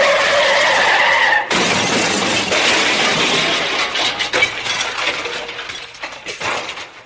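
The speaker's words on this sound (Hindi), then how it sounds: "कार अचानक से लहराई, जैसे ड्राइवर के बस से बाहर आ गई हो, और तभी एक जोरदार झटका खाकर कार सड़क के किनारे एक पेड़ से जा टकराई" A car skids with a long noisy screech, then crashes into a roadside tree with a shattering burst of glass and debris clattering and tinkling as it settles.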